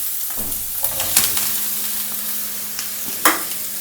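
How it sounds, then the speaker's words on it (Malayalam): Chopped medium onions sautéing in a pan for a Kerala-style crab roast, a soft steady sizzle broken by a few scraping stirs of a spoon, close and clear with no talking. "സവോള ഒന്ന് വഴറ്റിയെടുക്കാം"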